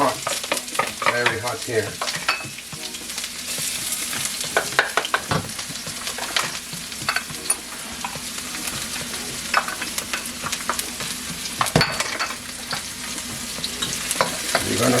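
Green seasoning and green vegetables sautéing in a very hot, lightly oiled pot, a continuous close sizzle with frequent clanking and scraping strokes of a stirring spoon, and a single brief spoken word near the start.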